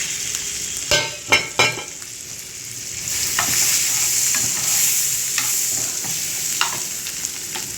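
Green bell pepper, capsicum, chopped tomato, julienned ginger and chopped chilli sautéing in a pan, a few sharp clanks of a spatula stirring at first, then a steady close sizzle with occasional scrapes, no talking.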